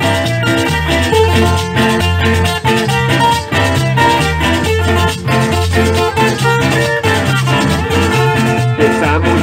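A carranga band plays live at a Christmas lights celebration in Nobsa, Boyacá, Colombia, with a steady, loud, dense stream of strummed strings and rhythm that never lets up.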